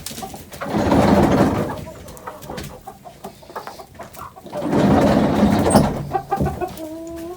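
Chickens clucking and cooing nearby in two broad bursts, with scattered fowl calls and rustling between them and a few higher calls at the end.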